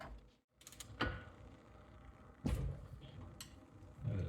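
A socket wrench tightens a bolt on a 1936 Briggs & Stratton WM engine with an ill-fitting socket, giving a few scattered mechanical clicks and scraping bursts at close range, with a quiet stretch between them.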